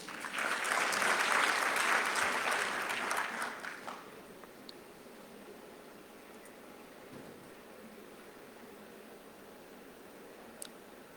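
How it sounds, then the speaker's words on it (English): A conference audience at Global Expo Botswana, the Pula Investment Conference, applauds Botswana in a burst of clapping that swells over the first few seconds and then fades, leaving quiet room tone with a few stray claps. "I think a round of applause for Botswana."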